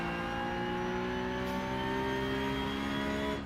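A loud, steady Porsche Cup race car engine in iRacing, droning at high revs with a rough, buzzing tone throughout.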